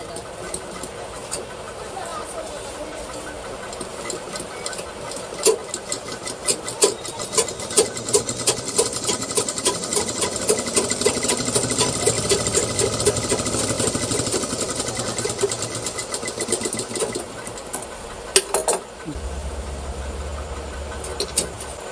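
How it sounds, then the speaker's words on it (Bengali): A sewing machine runs through cloth after threading, giving a long steady mechanical whir with rapid ticking needle strokes at close range, and brief clunks near the end. "কাপড়টা দেওয়ার পরে মেশিনটি স্টার্ট করব"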